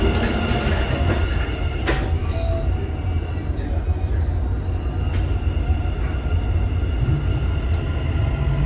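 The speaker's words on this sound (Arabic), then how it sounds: "Doors closing." A Dubai Metro Red Line train hums and rumbles steadily inside the car while the doors close, with a brief chime-like tone and faint rail noise under the constant drone.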